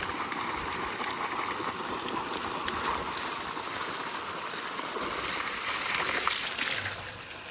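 Water from a motor pump rushes steadily into a storage tank, a continuous, fairly quiet gushing with no talk over it.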